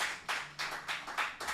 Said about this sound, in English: I'm hearing claps in the background.